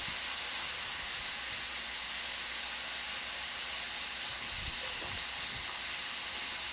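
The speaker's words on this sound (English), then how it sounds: "So just continue stir fry. And this is the time we're going to add the sauce." Kung Pao sauce sizzles and hisses steadily in a hot wok during stir-frying, a broad close hiss with a few faint scraping knocks near the end.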